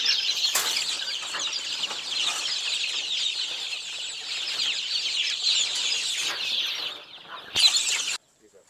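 Chickens and chicks cluck continuously while feeding on a mix of hammered feed and corn grits, a steady close flock chorus with a brief burst of wing flapping near the end.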